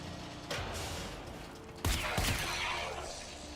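Gun fired in a video game, shown as a couple of sharp cracking bursts over a steady hum, with an erratic weapon giving a few abrupt loud shots.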